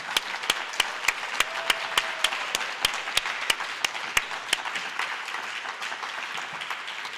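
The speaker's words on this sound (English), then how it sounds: "I just want to take a moment for us to give a round of applause to Leonard and his remarkable leadership." An audience at an innovation event applauds in a sustained round of clapping, dense and steady, with a few sharp, close claps standing out before it thins slightly toward the end.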